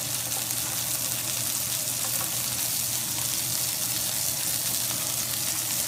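Onion frying in oil in a pan alongside burger veggies, a dense, even, steady sizzle heard close and fairly loud without pause.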